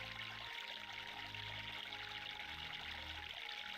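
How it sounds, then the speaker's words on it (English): A babbling brook in the DOS adventure game Shannara, a faint, steady trickle and gurgle of flowing water that runs continuously and alone. "Listen to the brook."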